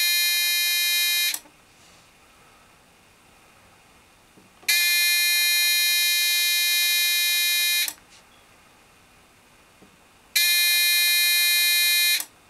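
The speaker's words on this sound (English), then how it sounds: "If I put it directly on again, buzzer lights up, take it off, buzzer stops, puts it back on." Electronic buzzer wired to a PNP inductive proximity sensor sounds each time a screwdriver's metal tip is brought near: three loud, steady tonal blasts of a few seconds each, separated by quiet gaps, with no talking.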